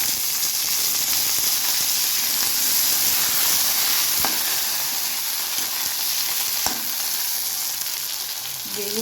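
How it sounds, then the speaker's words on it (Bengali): Onions fry in an iron wok, a loud, steady hissing sizzle that continues throughout, with a couple of brief knocks and no talking. "তো ইউজ করছি লোহার কড়াই। এর মধ্যে একটু পেঁয়াজ দিয়ে দিয়েছি, ভেজে ভাজতে দিয়েছি।"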